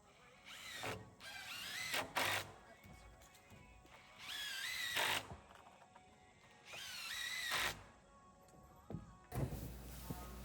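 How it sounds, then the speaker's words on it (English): A power drill drives 3-inch deck screws into wooden floor joists on a cabin build, three whining bursts of a few seconds each separated by quiet pauses, with a final thunk. "We are tacking it on there with 3-inch deck screws."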